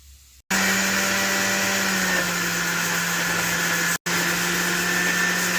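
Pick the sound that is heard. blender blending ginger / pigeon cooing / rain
blender blending ginger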